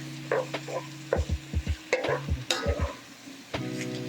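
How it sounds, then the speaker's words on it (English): Minced ginger and garlic, about a teaspoon of each, sizzling in a pan for shrimp curry while a utensil thumps and scrapes against the pan in quick irregular bursts, close up, with no voices. "We're gonna go ahead and add in some ginger and some garlic, about a teaspoon of each"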